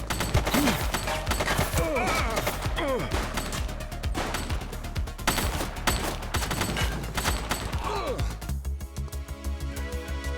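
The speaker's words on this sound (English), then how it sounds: "She's shooting!" Rapid gunfire bursts in The Precinct police video game, loud and repeated throughout, mixed with game effects and a shift to a denser mechanical texture near the end; a voice is heard briefly.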